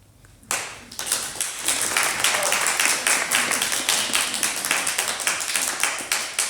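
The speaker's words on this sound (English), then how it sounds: "I should have mentioned no applause until the very end, please" Audience applause bursts out abruptly after a quiet moment at the Rye City Council candidate forum, a lively round of many hands clapping at close range that holds steady for several seconds.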